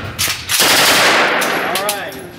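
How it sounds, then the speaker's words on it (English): An AK machine gun fires at a shooting range, a loud close burst of rapid shots followed by a ringing, echoing decay. "Let's get shooting with an AK, man."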